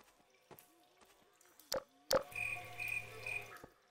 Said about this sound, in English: What was with the cricket noises?